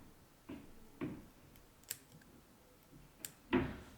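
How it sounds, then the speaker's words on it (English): Small scissors snip through fly-tying fibers while tying a cicada fly, giving a few quiet, isolated clicks and snips spread across the moment, close by and without talk. "you're going to cut right down the middle, taking out some of these fibers"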